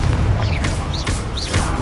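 Confringo blasting spell going off in Hogwarts Legacy, a run of booming blasts with whooshing streaks between them, close and loud, about three impacts in under two seconds.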